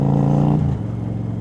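A car's exhaust note holds a loud, close revving tone that drops away sharply about halfway through, leaving a lower, rougher burble to the end.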